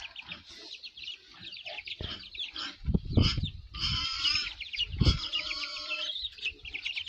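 Fighting roosters cluck and squawk in agitated bursts amid scuffling and thumps, with chattering birds in the background.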